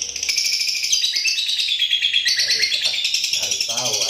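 A female lovebird chirps rapidly and loudly in a continuous stream of high, close twittering, with a person speaking faintly underneath toward the end.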